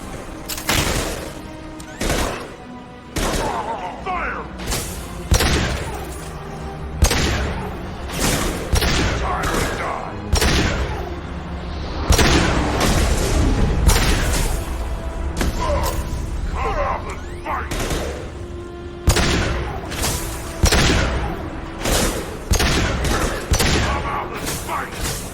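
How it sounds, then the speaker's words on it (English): Gunfire and explosions in the video game Mass Effect 2, a dense run of loud shots and booming blasts spread across the whole stretch at an irregular rhythm, with voices heard in the fighting. "Firing high impact shot."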